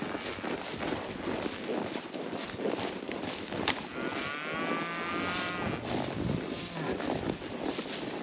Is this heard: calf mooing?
yes